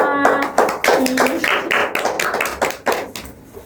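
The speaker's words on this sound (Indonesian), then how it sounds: "Tepuk tangan untuk kita semua." A small group claps hands together in a primary school science lesson, a quick series of sharp, close claps in uneven bursts, with a bit of voice mixed in.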